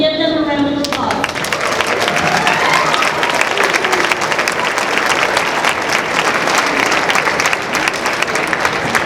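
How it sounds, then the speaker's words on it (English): A round of applause at a school assembly follows a brief spoken line, then continuous loud clapping from a large audience fills the rest. "Can we give them a round of applause?"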